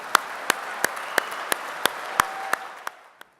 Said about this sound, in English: Can we have a big round of applause for all the finalists and all the winners?